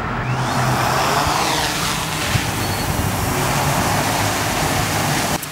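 A DJI drone's motors spin up for takeoff with a steady, loud, close whirring rush. A faint rising whine runs over the constant broadband noise.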